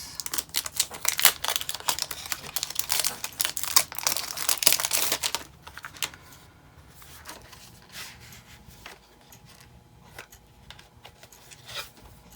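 A box of vintage stickers being unpacked, with loud crinkling and rustling of packaging in rapid bursts for several seconds, then softer, sparse handling noises as the items are shuffled.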